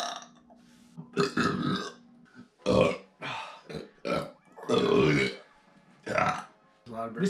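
A series of long, loud, resonant burps after drinking cherry cola during a burping contest, several drawn-out belches in a row with short gaps between them.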